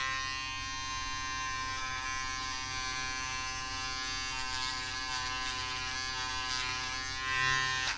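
A cheap Braun electric foil shaver running over a head, a steady close buzzing hum with a slight swell near the end and no talk.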